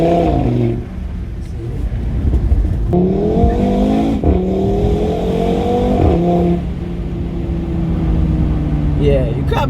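An Audi RS3 hot hatch's exhaust rises and drops in repeated pulls as it accelerates through the gears, loud and close, with quick breaks at each upshift and people talking over it.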